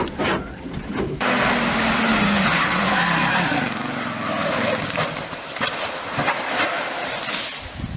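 A race car skids wide through a fast left-hand gravel corner with loud, sustained tyre and engine roar that rises and then settles into rough, scrabbling noise.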